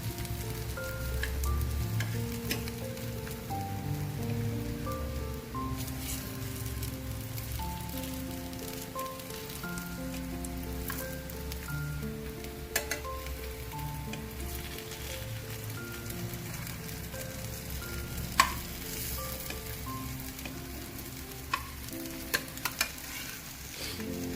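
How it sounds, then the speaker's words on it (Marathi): Slices of traditional Samvedi alu vadi shallow-fry in a pan with a soft, continuous sizzle and faint scattered crackles, heard quietly beneath steady background music. "सगळं पलटून घेऊन दुसरी बाजू पण आपण तळून घ्यायची आहे"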